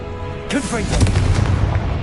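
A Confringo fire spell blasts in Hogwarts Legacy, with a sudden booming burst and a rumbling low tail. A voice speaks over the start, and the loud blast dies down over about a second and a half.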